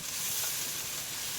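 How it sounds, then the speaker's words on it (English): Shredded pork sizzling in bacon fat in a cast iron skillet, a loud continuous frying hiss with steady crackle, close up and alone. "you can hear that wonderful sizzle"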